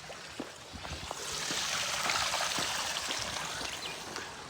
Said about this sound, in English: Water flowing everywhere all the time.